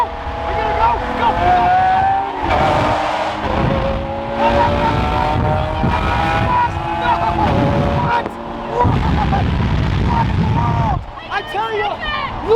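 A 1600hp Nissan GT-R roars hard at full throttle with rising, shifting engine pitch and tire noise, loud and sustained, while excited voices talk and shout over it.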